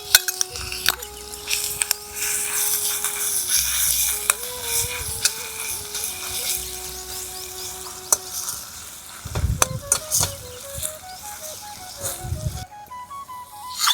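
Ginger, garlic and chilli sizzling in hot oil with a few stirring clatters, while music plays over the frying.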